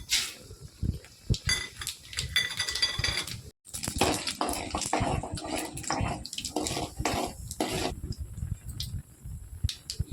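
Tempering spices splutter in hot oil in a pan while ragi upma is being made; close, irregular crackling and popping bursts with a short quiet gap, no talk.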